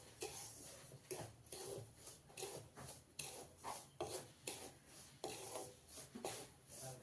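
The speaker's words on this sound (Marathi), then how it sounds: "रवा मी चांगला भाजून घेते" A spoon rhythmically scrapes and rubs semolina (rava) as it roasts in a pan for karanji, soft repeated strokes close up with no talking.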